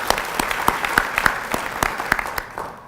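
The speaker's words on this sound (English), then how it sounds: "So let's give them a round of applause." A convocation audience at a public health school honors ceremony gives a round of applause, a moderately dense clapping with distinct individual claps standing out, tapering slightly at the end.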